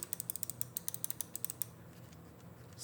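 Rapid, crisp clicks from the buttons of a Pulsar V2 mini gaming mouse, about a dozen sharp, evenly spaced taps in quick succession, close and clear, then a quieter pause with a faint click at the end.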